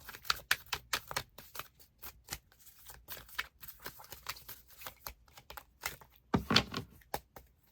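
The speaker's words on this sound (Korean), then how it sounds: "처녀분들에게 필요한 조언 카드 뽑아볼게요." Tarot cards are shuffled and drawn by hand during a zodiac reading, giving a rapid series of crisp card flicks and riffles, with a louder burst of shuffling near the end and no talking.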